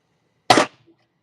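A used espresso puck is knocked out of a Big Bang portafilter basket with one sharp, close knock that dies away almost at once, then brief quiet.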